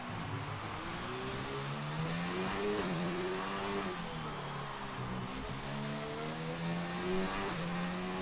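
Onboard lap of an F1 race car in the F1 2019 game at the Singapore GP qualifying: a loud, continuous, high-pitched engine whine that rises and dips through gear changes and corners.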